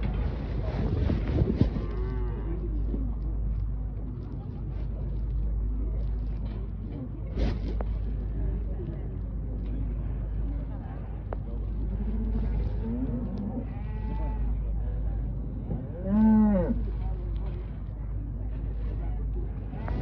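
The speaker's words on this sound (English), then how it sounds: "Look at the sheep here, look." Sheep bleats under frequent human talk, with one clear, wavering bleat near the end of a farmyard scene that also holds cattle-like lowing and steady background hum.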